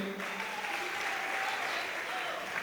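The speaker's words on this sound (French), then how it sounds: "On applaudit pour elle." Audience applause at a stand-up comedy show, a steady, even clapping from the crowd that fills the whole stretch at a moderate, somewhat distant level.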